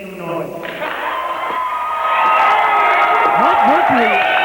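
Loud wrestling event crowd cheering and shouting, a dense roar that swells and stays strong throughout, with scattered whoops and a voice calling out over the noise.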